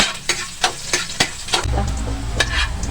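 Garlic frying in a pan while crab in coconut milk is cooked: a few clinks of stirring, then a loud, steady close sizzle that begins partway through and continues to the end.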